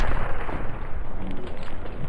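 V2 rocket strike explosion in Call of Duty Vanguard, a loud, sustained roaring blast with rumbling debris, dense and close for the whole moment.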